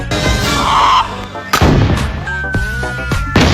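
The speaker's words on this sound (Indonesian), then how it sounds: "Tembakan ini membahayakan." Loud gunshots crack out, one sharp blast and then several more echoing reports in quick succession, each followed by a ringing decay.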